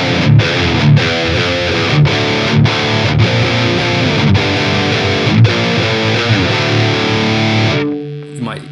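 A heavily distorted electric guitar plays steady chords with regular rhythmic accents, a bright fizzy buzz throughout, ending abruptly with a brief tail.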